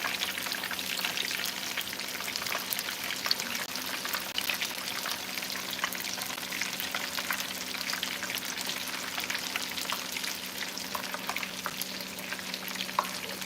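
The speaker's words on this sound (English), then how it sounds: "So I'm going to fry up all these pieces here." Thin pieces of food fry in a pan, crackling and sizzling in a loud, continuous close-up hiss with scattered pops and spits, and nobody talks.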